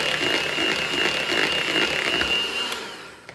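Boiled potato insides being mixed with butter in a bowl: a steady, close electric motor whir with a thin high whine that runs throughout, then tapers off near the end.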